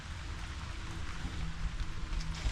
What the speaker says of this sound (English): can't do anything now because it's raining